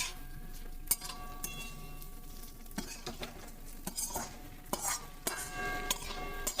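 Dry chili chicken stirred in a pan, a quiet close soft sizzle broken by repeated sharp clinks and scrapes of a utensil against the metal in an irregular rhythm.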